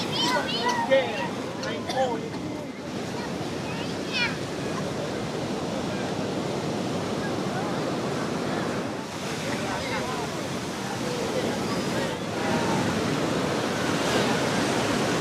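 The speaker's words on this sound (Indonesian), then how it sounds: "Ombak di sini terpantau cukup lumayan besar gitu ya." Large ocean waves roll onto a beach on Cilacap's southern coast, a continuous loud roar of surf with wind buffeting the microphone, steady throughout with a few surges.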